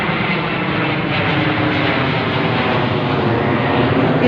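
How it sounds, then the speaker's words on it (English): A jet airplane roars overhead, a broad, steady rumbling drone that stays loud for the whole stretch. "most of them were quite big jets following me all the way down over my head"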